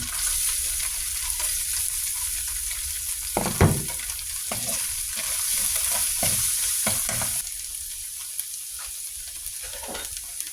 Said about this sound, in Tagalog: Lutuin natin muna yung bawang.